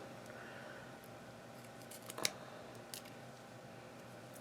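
Scissors cutting down a piece of card stock for an Easter card, one short crisp snip in an otherwise quiet room.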